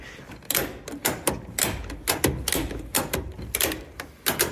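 A ratchet strap is cranked tight on theatre set pieces, giving a steady run of close, sharp clicking ratchet strokes in quick rhythm.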